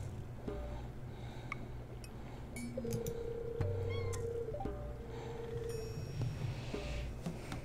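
A kitten meows a few times at moderate distance over steady background game music and ambience, with scratching-like soft noises scattered throughout.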